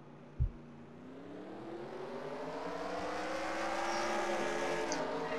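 NASCAR Camping World Truck Series trucks race past on the track at the Kroger 250, with a loud, sustained engine roar that rises as the pack approaches. A brief thump comes near the start.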